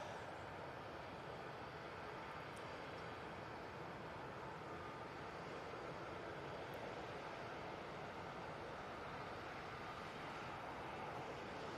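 An airliner roars with reverse thrust after landing at Manchester Airport, a steady, loud, broadband rush of engine noise that persists throughout with no talking.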